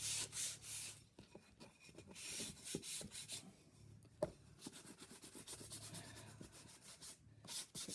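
Steady, scratchy rubbing of sandpaper on painted wood furniture, close and continuous with brief pauses between strokes.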